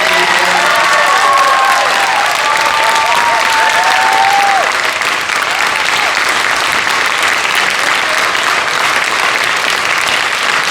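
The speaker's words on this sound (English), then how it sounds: "let's give them a very big round of applause" Audience applause honoring military members and veterans in a room, a loud, dense wash of clapping sustained throughout with some crowd noise mixed in.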